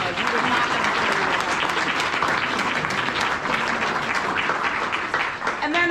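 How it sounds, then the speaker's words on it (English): An audience at a student presentation applauds the presenters with dense, sustained clapping that fills the room from start to finish. "So give them a huge round of applause."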